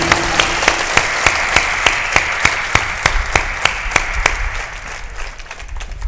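An audience at a spoken-word gathering breaks into hearty applause, a loud, continuous clapping crowd with a few sharper individual claps standing out at a steady pace, fading slightly toward the end.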